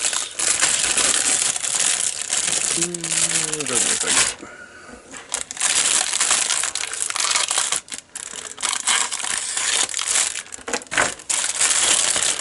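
Self-sealing plastic bag holding a model truck cab being handled and opened, loud close crinkling and rustling in bursts, with brief pauses in between and a voice speaking partway through.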